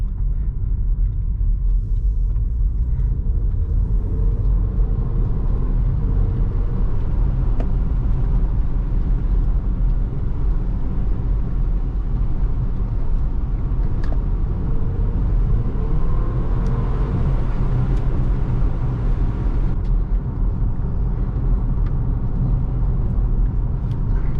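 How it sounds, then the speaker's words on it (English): Warm Porsche Macan engine pulling under light throttle while driving, a steady low rumble with road and tyre noise filling the cabin continuously and no speech. "the engine is already warm, so we are fine to give it a little bit of throttle"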